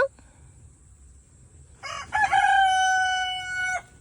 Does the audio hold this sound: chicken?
yes